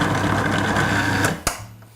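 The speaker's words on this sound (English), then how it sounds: "So I'm gonna use my food processor. Then what I want to do first is just grind the butter into the flour." A food processor whirs loudly and steadily while grinding butter into flour for a chicken and stuffing pie, then stops abruptly with a sharp click and a fading hum.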